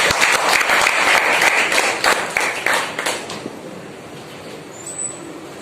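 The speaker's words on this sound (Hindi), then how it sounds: "आप लोग जोरदार तालियां" Loud applause from a crowd at a meeting, strong and dense at first, then thinning out and fading over the last couple of seconds into low room noise.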